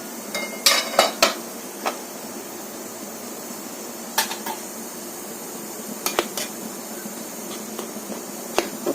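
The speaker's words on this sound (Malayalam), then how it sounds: "നമുക്ക് നമ്മുടെ കുട്ടകത്തിന്റെ അടപ്പൊന്ന് തുറന്ന് പുട്ടെന്ത് പരുവമായി എന്നൊന്ന് നോക്കാം" Metal clanks and scrapes as the lid of a large puttu steaming pot is lifted, a few sharp knocks near the start and more scattered clinks later over a quiet background.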